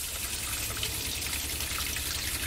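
Water sputters and gushes from an RV faucet as air is purged from the lines after a Flow Max fresh water pump install, a steady close splashing hiss with irregular spurts throughout.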